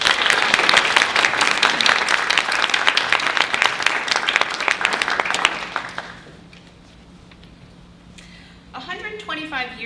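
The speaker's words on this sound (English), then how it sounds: "A big round of applause." Guests at the Ossining Library's 125th anniversary opening reception give a hearty round of applause that fades out after about six seconds, leaving a quiet room before a voice starts speaking.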